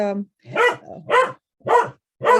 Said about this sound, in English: So sorry, it's my dog.